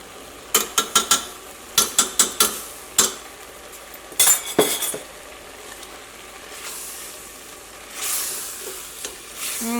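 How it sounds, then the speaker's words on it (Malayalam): Carrot halwa being stirred in a pan, a series of sharp spoon scrapes and clinks against the metal in bursts, with soft sizzling in between and a quieter stretch of stirring toward the end. "ഇടയ്ക്കൊന്ന് ഇളക്കി കൊടുത്താൽ മതി."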